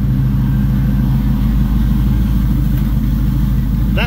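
A 1968 Camaro's fuel pump runs with a steady, moderately loud hum and engine-like rumble throughout, a continuous drone with no talk.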